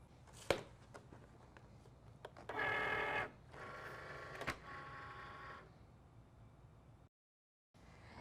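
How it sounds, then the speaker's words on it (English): A Cricut machine with a rotary blade cuts felt wool fabric: quiet whirring motor passes and carriage movements, separated by clicks and pauses, heard up close with no talking. "I've already got my rotary blade installed, so I'm just gonna go ahead and run this through the Cricut"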